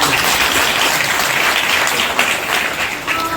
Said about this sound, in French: Est-ce qu'on peut applaudir pour le chef de l'État?